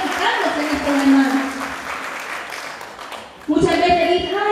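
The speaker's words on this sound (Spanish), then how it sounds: "Vamos a darle un aplauso." An assembly of church community members claps for fellow members, a moderate spread of applause mixed with voices that are loud at the start, thin out midway, and swell again near the end.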